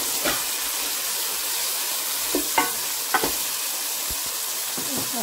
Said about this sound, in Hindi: 2-3 मिनट इसमें फ्राई करेंगे।